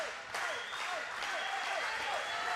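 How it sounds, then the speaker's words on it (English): A wrestling crowd at a SoCal Pro event in Vista, California, claps and cheers. The applause is dense and sustained and fills the venue, with an announcer talking over it. "Crowd going crazy."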